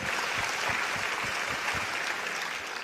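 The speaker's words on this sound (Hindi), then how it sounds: "तो जोरदार तालियां डॉक्टर विवेक बिंद्रा और बड़ा बिजनेस के लिए" A studio audience applauds at a business talk event, a brief burst of dense clapping with a few heavier individual claps standing out.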